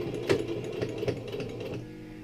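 A sewing machine set to a long stitch runs along a jeans hem in a steady whirring burst, with a few louder pulses near the start before easing off toward the end; close by, no talk.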